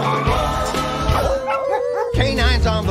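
Several dogs bark and yip in quick bursts over lively music, close and fairly loud.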